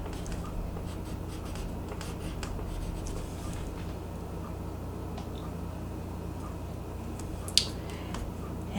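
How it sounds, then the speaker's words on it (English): Crayon sketches on paper in soft, scratchy strokes that continue quietly and evenly, with a single sharp tick near the end and no voices. "I'm going to sketch out kind of a triangle right here."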